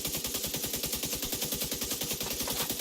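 An SMG firing continuously in the video game The Division 2, a fast, even stream of rapid shots with a steady mechanical rhythm, loud and unbroken for the whole stretch with no one talking.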